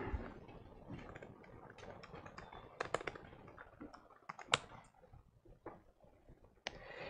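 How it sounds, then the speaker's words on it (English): Typing on a laptop keyboard, a quiet, irregular run of clicking keystrokes with a few sharper taps scattered throughout. "I type on this laptop because it's a pain to type on the surface"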